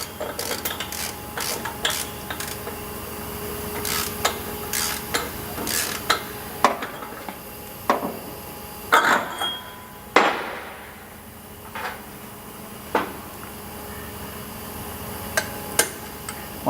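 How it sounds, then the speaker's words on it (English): Outer nut being tightened on a free-wheeling hub of a Toyota 70 Series, with sharp metallic taps and clicks of tools against the hub, irregular and close, a few louder knocks partway through, no talking. "We now fit the lock tab back on, and then the outer nut."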